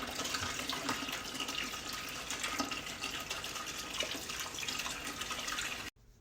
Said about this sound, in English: you fill the water up to the line at the bottom